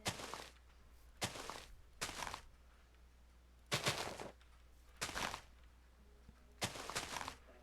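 An SMG fires in a Minecraft server game, six short sharp bursts spaced about a second apart, each a crisp crackling volley over a quiet low hum, fairly faint overall.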